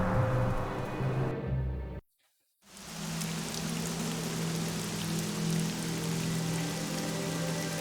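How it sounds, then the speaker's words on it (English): Steady rain in the video game Neverwinter Nights, a dense hiss of falling drops with a low background tone, broken by a brief moment of silence before the downpour resumes evenly. "It is raining, but there is no rain."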